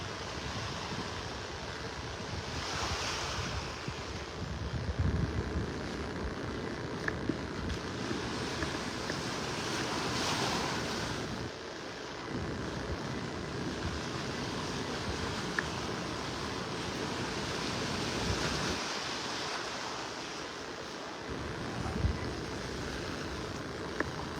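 Surf washes steadily onto a beach in North Naples, a continuous soft roar of breaking waves with some wind rumble across the microphone, heard alone without talk.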